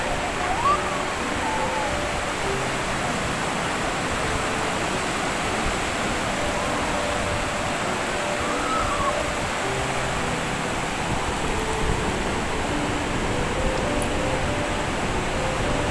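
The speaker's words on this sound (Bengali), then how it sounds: "জাস্ট একবার শব্দটা শোনো, ঢেউ মন ভরে যাবে।" Sea waves break on the beach at Digha at night as a continuous broadband roar of surf, steady and enveloping for the whole stretch, with no distinct voices over it.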